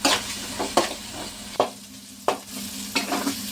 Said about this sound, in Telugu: ఈ మధ్య అంతవరకు ఇలా కలుపుకుంటూ ఉండాలి,